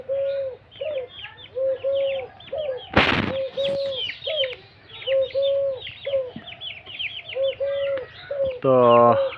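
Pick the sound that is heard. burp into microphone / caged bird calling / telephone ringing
caged bird calling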